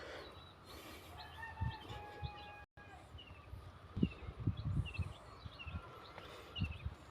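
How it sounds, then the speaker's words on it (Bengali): A rooster crows at a fish farm, its drawn-out calls rising and falling over low thumps and farmyard background noise at moderate distance. "এরকম মোরগ সচরাচর খুব কম দেখা যায়।"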